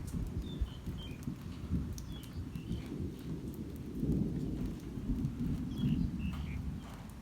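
Steady rainy-season rain pours down on a rural farm garden in a dense, continuous hiss with a low rumble underneath, while a few birds chirp faintly in the background.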